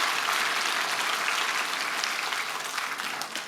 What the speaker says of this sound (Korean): 우리 박수로 하나님께 영광을 올려드리도록 하겠습니다